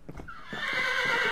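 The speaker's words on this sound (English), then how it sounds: "Oh, my God. The freaking horses." Horses neigh loudly in the video game Hexxit, one long, close whinny rising and holding after a few short snorts and clip-clop sounds.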